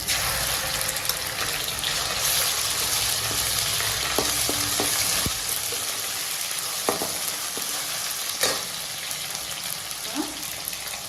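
Onions with ginger and garlic sauté in a pan for a mutton trotter curry, a steady close sizzle and crackle filling the whole stretch, broken by a few sharp clinks and scrapes of a stirring spoon.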